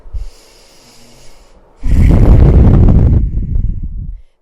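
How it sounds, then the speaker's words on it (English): A deep breath during a mellow yoga session, with a soft inhale followed by a long, loud, close exhale that rushes through the nose and mouth and then tapers off. "For one more deep breath."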